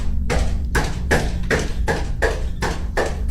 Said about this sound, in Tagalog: sa kabilang pintuan ulit ito kumakatok. Ito ay pintuan ng kanilang living room, mas mabilis at mas malakas